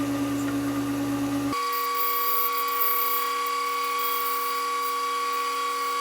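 Small powered tool spinning a wooden dowel, turned thinner for a finial, with a steady high whine and tonal hum that shifts pitch sharply early on, then holds, close and without talk.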